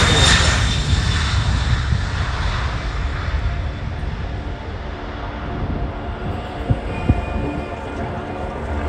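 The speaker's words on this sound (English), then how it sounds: "the largest aircraft ever built in the country of Japan, the Kawasaki C-3" A Kawasaki C-2 military transport jet flies past at the Australian International Airshow 2023: a broad, rushing roar that starts strong and slowly fades as it recedes into the distance, with faint crowd noise underneath.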